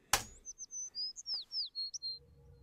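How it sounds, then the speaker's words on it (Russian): Small birds chirping in a calm computer-animated outdoor scene, a rapid series of about ten clear, close, high tweets after a sharp opening click, with no talking. "И птички щебечут."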